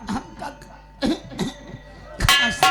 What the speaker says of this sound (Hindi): खांसी बहुत आवत बिटिया